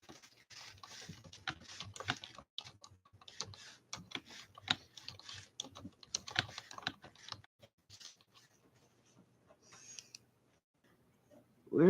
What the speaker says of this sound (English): I better type that too.